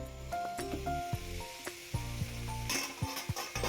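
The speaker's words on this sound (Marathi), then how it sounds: "याच्यावर छान परतून परतून घ्यायची तेलावरच मऊ होते भाजी" Cauliflower bhaji sizzles in hot oil and is stirred with a few scraping knocks of the spoon, with steady tonal music playing over it throughout.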